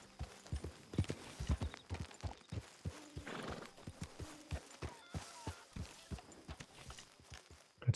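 Horse hooves clip-clop steadily at a walk in the Red Dead Redemption 2 video game, a fairly close, regular run of thuds with a brief snort or whinny partway through.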